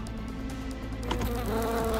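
A cartoon fly buzzes steadily and close, a droning, wavering hum that rises a little in pitch and loudness partway through, with no voices.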